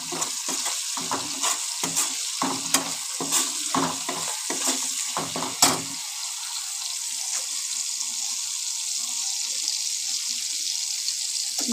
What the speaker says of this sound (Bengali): চীনাবাদামটা ভেজে নিচ্ছি।